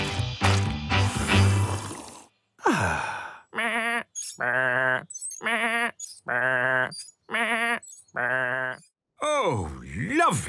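Cartoon sheep in a children's animated show bleat in a rapid series of loud, close, wavering calls after a noisy opening.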